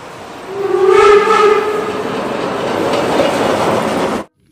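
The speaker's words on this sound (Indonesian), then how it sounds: "Wow, lihat ada kereta uap." A toy steam train gives off a loud, near whistle blast followed by a steady rolling rumble of clattering train noise, with no speech over it, before cutting off abruptly.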